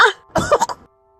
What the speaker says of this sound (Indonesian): Batuk sekali lagi.